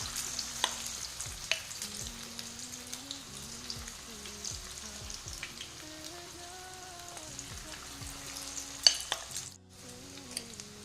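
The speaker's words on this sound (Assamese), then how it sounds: "এতিয়া মই এইখিনি ধুনীয়াকৈ এপিচকৈ তেলত ফ্ৰাই কৰি লওঁ" Chicken pieces sizzle in hot oil in a wok for chilli chicken, a soft steady frying hiss with occasional crackles and a few clinks of stirring, fairly quiet and close.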